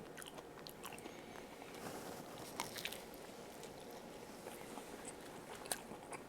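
Faint, close mouth sounds of someone biting into and chewing homemade fast food, with soft crunches and wet squishes in an irregular rhythm and one sharper crunch near the end.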